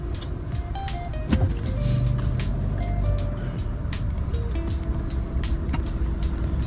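A tractor approaches on a narrow road, its steady engine drone heard from inside a car on a long drive, with a continuous loud rumble and shifting tonal whine throughout.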